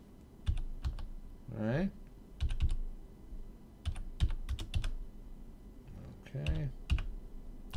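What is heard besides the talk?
typing credit card number on a computer keyboard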